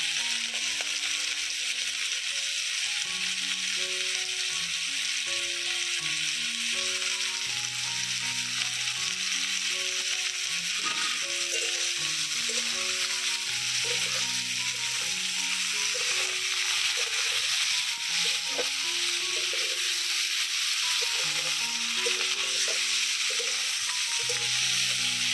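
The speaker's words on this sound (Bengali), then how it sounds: "এবারে আমি অল্প নুন দিয়ে আর হলুদ দিয়ে ভেজে নেব" Bitter gourd frying in oil with salt and turmeric, a dense continuous sizzle held at steady loudness throughout, with faint music underneath.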